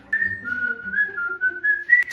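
A person whistles a bright, wavering tune close by, several sustained notes sliding up and down, ending with a short sharp burst.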